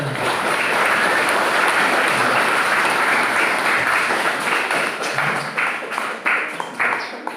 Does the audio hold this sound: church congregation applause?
yes